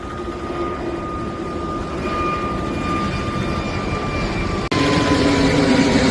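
Continuous loud roar of an airplane taking off or landing at an airport, a sustained engine drone with a steady whine, briefly cut by a sharp break near the end before resuming, no speech.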